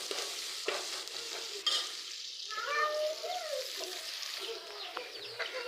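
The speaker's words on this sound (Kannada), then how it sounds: "ಈರುಳ್ಳಿನ ಹಾಕ್ಕೊಂಡು ಫ್ರೈ ಮಾಡ್ಕೊಳ್ಳಿ" Onions frying in a pan make a steady bright sizzle with occasional scraping stirs, close and fairly quiet; a brief faint chirping sound rises midway over the hiss.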